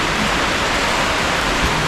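Steady hiss of rain falling outdoors near Ninh Binh's Tam Coc rice and lotus fields, a broad even wash of noise with no breaks and no voices.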